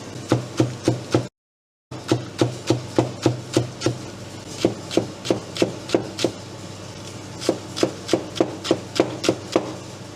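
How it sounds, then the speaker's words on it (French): Green onions chopped on a board with a freshly sharpened knife in a ramen restaurant kitchen, a steady run of crisp, close knife strikes with one short gap of silence. "Là, le couteau est aiguisé. On va prendre la dernière botte de cébette."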